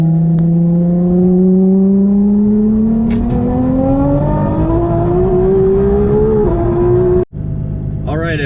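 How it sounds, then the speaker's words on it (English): A Nissan GT-R, running on E85 and driven with hand controls, accelerates hard in third gear, its engine note climbing steadily and loudly before a brief cut at the shift, then resuming close up. "So basically I can just hit the gas and the car will shift for me."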